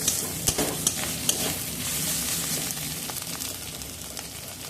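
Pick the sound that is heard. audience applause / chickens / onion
onion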